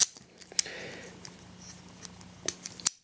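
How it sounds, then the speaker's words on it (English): Small spring-loaded Fiskars scissors on a medium-duty multi-tool snip several times, giving sharp close clicks and cuts spaced through a quiet stretch with a faint steady hum. "you can tell that Fiskars had their say with the scissors. They're like tiny little shears."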